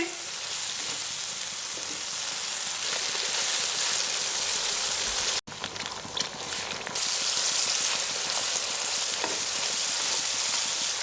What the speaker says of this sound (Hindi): प्याज और टमाटर का जो पेस्ट बनाया था वो इसके अंदर ऐड कर देते हैं और इसको भून लेती हूँ।